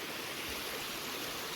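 Cossatot River water flowing along a backpacking trail corridor, a steady broadband rush of stream water, close and continuous with no voices.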